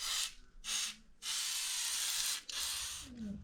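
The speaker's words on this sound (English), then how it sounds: "So I'm just going to soak them in WD-40 overnight." WD-40 sprays onto BBS RS three-piece wheels in four quiet hissing bursts of varying length, close by, with short gaps between them.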